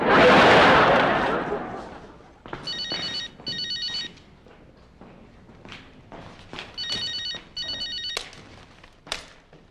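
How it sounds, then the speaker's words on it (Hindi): An old-style telephone rings in two double bursts, each followed by a pause, with thumps and movement in between after a loud opening noise. "फोन है, टेलीफोन है।"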